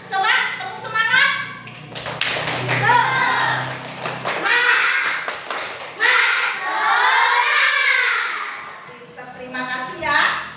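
Schoolchildren in a classroom perform the rhythmic 'tepuk semangat' clapping chant, with loud young voices chanting in unison over bursts of patterned hand claps.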